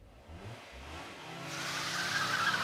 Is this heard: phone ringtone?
no